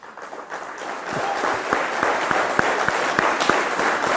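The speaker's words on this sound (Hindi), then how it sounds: "इतनी तालियां।" Audience applause and clapping at a World Biofuel Day 2021 company celebration, building from a soft start into steady, loud clapping with several sharp individual claps standing out near the front, with no speech.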